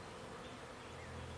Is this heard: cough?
no